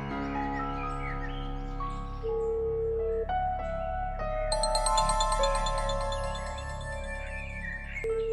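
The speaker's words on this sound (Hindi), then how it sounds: "घंटी बज रही।" A melodic electronic ringtone plays a sequence of tones that step upward and layer together, fairly quiet, with no talking.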